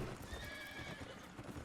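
In the video game Revelation Online, a horse mount's hooves clip-clop in a steady rhythm, joined by a neighing whinny, moderately quiet and alone without talk.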